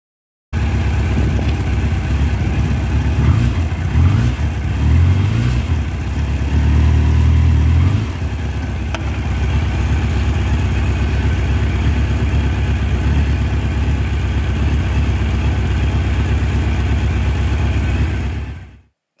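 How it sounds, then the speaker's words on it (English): An MV Agusta motorcycle runs close and loud, a few sharp throttle revs early on before settling into a steady, deep idle that carries on alone until it cuts off at the end. "I'll just give you a little sneak preview of the sound of this bike."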